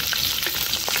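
Crushed garlic frying in hot oil, a loud, dense, continuous sizzle and crackle close by, with no talking.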